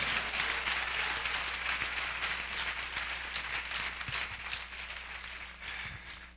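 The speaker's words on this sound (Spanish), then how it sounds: "Denle ese aplauso a Cristo en esta noche." A church congregation applauds in a sustained, dense wash of clapping that holds steady for several seconds and fades slightly toward the end, with no talking over it.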